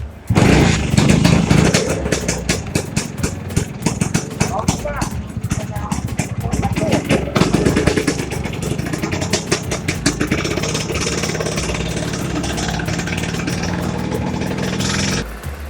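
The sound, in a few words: vintage Vespa scooter engine warming up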